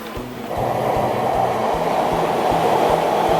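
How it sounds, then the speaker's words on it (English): A Taiwan high-speed rail train ride from Chiayi, heard as a steady loud rumble of the moving carriage with a regular rhythmic clatter of wheels over track joints, without talk. "We took the HSR, high-speed rail, from Chiayi."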